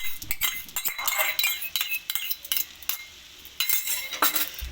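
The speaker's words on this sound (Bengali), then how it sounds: "এখন আমরা পাস্তাটাকে মিলিয়ে নেব" Metal utensils clink and scrape against a pan while chicken pasta is tossed with ground black pepper and sauce: a steady run of quick, bright, irregular taps close by, with no voices.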